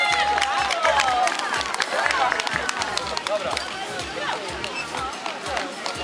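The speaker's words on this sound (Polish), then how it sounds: "Poprosimy o brawa." Outdoor crowd at a 2018 Wałcz Independence Day run in Poland applauding and cheering the three women podium finishers, with dense sustained clapping mixed with chatter and a few shouts throughout.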